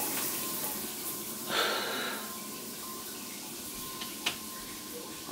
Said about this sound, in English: I'm just gonna jump in the hot shower.